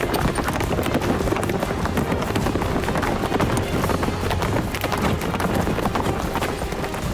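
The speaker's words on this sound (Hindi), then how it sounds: "पुतिन अक्सर ग्रे आर्लोव ट्रोटर नस्ल के घोड़ों पर सवारी करते दिखाई देते हैं" Hooves of grey Orlov trotter horses clip-clop at a steady trot, a dense continuous patter heard fairly close over a constant outdoor wash, with no voices.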